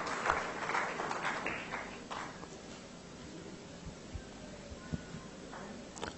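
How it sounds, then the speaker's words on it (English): Modest clapping at a corporate awards ceremony in Goa rises briefly at the start and then thins into scattered claps and faint room murmur, fairly quiet and distant. "Come on, give him a big round of applause."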